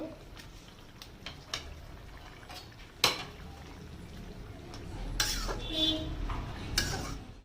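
Tomatoes going into a pan of simmering tilapia fish curry: scattered clinks of a spoon on the pan, one loud knock, then a stretch of stirring, scraping and soft bubbling at close range.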